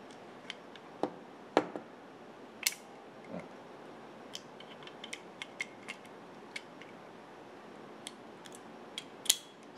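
A single action revolver has its cylinder changed to a .22 Winchester Magnum one, giving faint, scattered metallic clicks and small mechanical ticks at an irregular rhythm over a quiet background.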